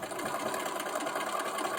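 A sewing machine runs steadily at a quick, even pace while stitching a short seam section in a quilt block, a close, continuous mechanical whir with no talk.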